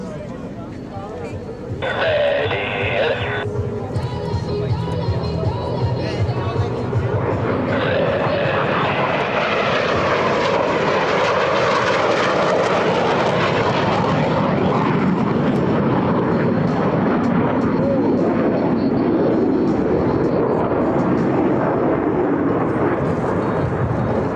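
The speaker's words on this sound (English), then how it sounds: "Approaching inverted from the left and right, they'll roll their aircraft 360 degrees crossing center point." US Navy Blue Angels F-18 jets performing opposing inverted rolls at the NAS Patuxent River air show, a loud continuous jet roar swelling and sustaining as they pass, with an announcer's voice over the public address.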